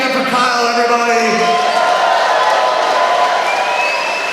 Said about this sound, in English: Round of applause again for Kyle, everybody